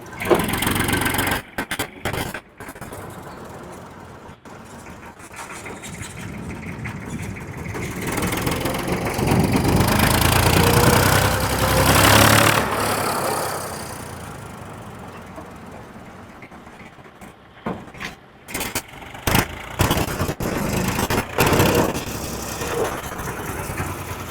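An IMT tractor engine starts up and runs with a steady low diesel rumble, growing louder midway then settling, with some clattering bursts; no talking.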